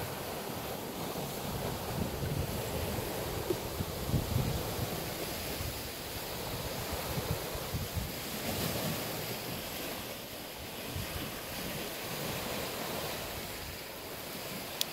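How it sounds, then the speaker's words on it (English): Surf washes continuously onto a resort beach in Cuba, a dense steady roar of breaking waves mixed with wind buffeting the microphone, with no voices. "This is the beach."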